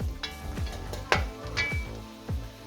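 A spoon stirs a pot of beans and sausage stew seasoned with smoked paprika, giving a series of close scraping, clinking strokes roughly every half second over a steady low sizzle.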